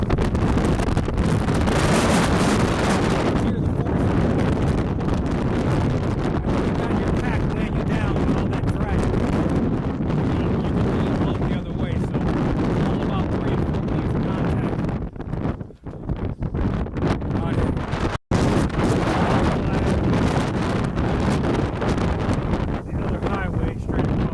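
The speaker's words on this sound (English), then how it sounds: "At this point, I'm into the wind, so I have to take my hat off" Strong wind roars continuously across a microphone on an Appalachian Trail hike, a loud, steady buffeting rush that fills the clip with only a brief dip near the end.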